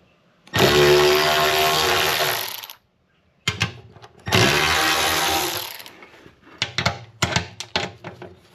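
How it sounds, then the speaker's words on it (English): A cordless electric ratchet loosens bolts on a Jeep JL Rubicon, with two sustained whirring bursts of a couple of seconds each, then a series of short choppy spins and clicks close by. "get my electric ratchet here"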